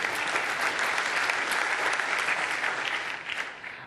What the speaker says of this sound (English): applause. Oh, I like applause.